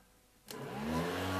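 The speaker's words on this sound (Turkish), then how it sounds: "gördüğünüz gibi şu anda fanım tekrar çalıştı" A homemade air cooler's fan starts up indoors after near silence, opening with a sudden whoosh and then settling into a steady, rising electric whir with a low hum underneath.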